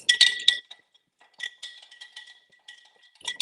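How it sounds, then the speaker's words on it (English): A spoon stirs gelatin in a glass, giving bright, close clinks in quick bursts with quiet gaps between them. "Stir it around, let it melt."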